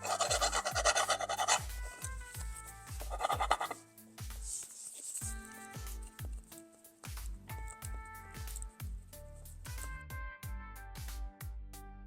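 Hard wax residue is rubbed off a ceramic tile with rasping, scratchy friction strokes, heard under background music with steady repeated rhythm.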